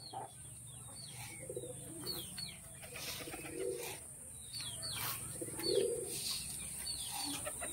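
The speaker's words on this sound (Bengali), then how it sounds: "পায়রাগুলোকে খাবার দেওয়া হচ্ছে এখন" Pigeons in a full loft in Chakdah, Balarampur being fed, with repeated soft cooing and chirps close by, faint wing flutters and quiet shuffling throughout.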